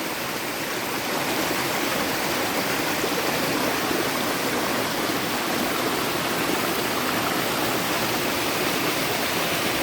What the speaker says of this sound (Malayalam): ചെറിയ വെള്ളച്ചാട്ടിൽ നിന്ന് ഒഴുകി വരുന്ന വെള്ളമാണ് ഇത്